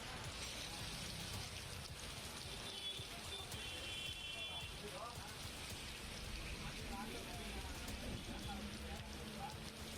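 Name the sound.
continuous monsoon rain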